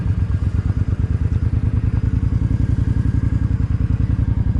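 A Suzuki M50 motorcycle running as it rides around an airstrip, its engine giving a loud, steady, pulsing thrum throughout with no break.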